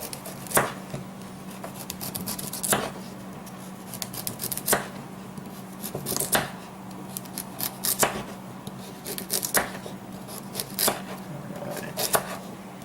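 Carrots sliced on an angle with a knife on a cutting board: sharp, separate chops spaced about one to two seconds apart, fairly close and clear over a steady low hum, with no talking.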